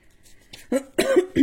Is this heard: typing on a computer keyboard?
no